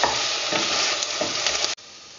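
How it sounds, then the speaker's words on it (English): Pork belly sizzles loudly frying in its own fat with crackling pops, then the sound cuts off abruptly near the end. "It is now frying its own fat."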